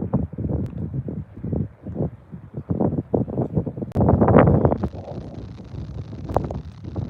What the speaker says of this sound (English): the wind is brutal up here.